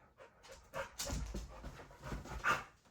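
A dog pants hard and whimpers softly during an attention-training session, with quick breathy panting close by, small high whines and faint movement noise.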